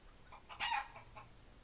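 A nearby chicken gives a short burst of clucks, with one sharper, louder squawk in the middle of a handful of softer clucks over a quiet background.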